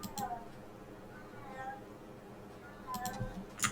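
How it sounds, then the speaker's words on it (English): A cat meows a few times in the background, faint and drawn out, with a quiet room hum beneath. "I don't know if y'all can hear my cat in the background"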